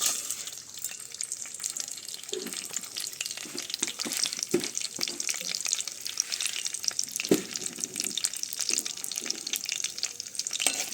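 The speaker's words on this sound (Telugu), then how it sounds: "పోపులు వేస్తున్నానండి." Tempering spices frying in hot oil for an okra and egg dish, a dense steady crackling sizzle close by with scattered pops and stirring knocks throughout, no voices.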